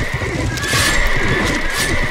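A horse in the Life is Feudal MMO neighs in a loud, close whinny amid medieval battle noise, with clip-clop hooves faintly underneath.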